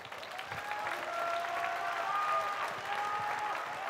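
Arena crowd applauding the winning fighter after a UWF versus kickboxing match, a moderately faint, sustained spread of clapping with a voice talking over it.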